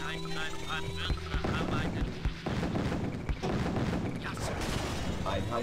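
Continuous rumbling gunfire and heavy artillery blasts from the battle game Command & Conquer: Tiberian Sun, dense and booming with no pauses.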